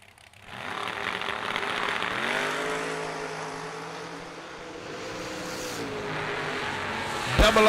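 Drag racing cars, a Chevy 2 and a Corvette, roar and rev loudly at the strip, their engine pitch sweeping upward as they accelerate, with a busy crowd and announcer ambience underneath.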